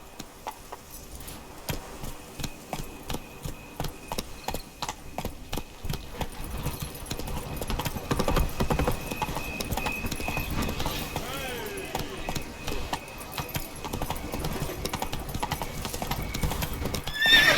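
A horse gallops in The Witcher 3 with a rapid, steady drumming of hooves that grows louder and denser, and a brief whinny near the end.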